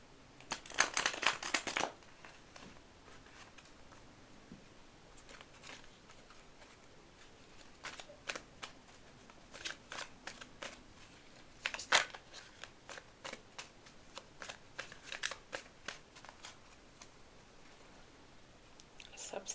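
Tarot cards being shuffled for a love reading: a dense burst of riffling at the start, then scattered card flicks and soft slaps spread across the stretch, fairly close, with no talking.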